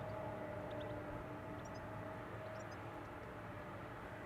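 A CRJ 900 jet departing Amsterdam Schiphol Airport for Munich gives off a faint, distant, steady engine roar that holds unbroken for the whole stretch.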